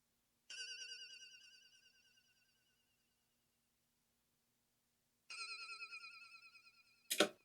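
Wobbly triangle-wave synth in FL Studio with added effects plays a bright warbling tone that fades out, then returns after a pause, followed by a short glitchy burst, faint and alone.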